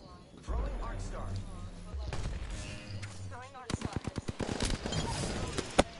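Incoming gunfire in Apex Legends rattles as a rapid string of close, sharp shots in the second half, following a stretch of game sounds and a player's voice.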